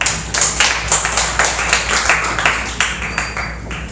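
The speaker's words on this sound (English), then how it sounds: "We give Mr. Cordeta a round of applause." Scattered clapping from a small classroom audience of students after a report on shear and moment diagrams, a few hands beating in loose rhythm at moderate loudness, with no talk over it.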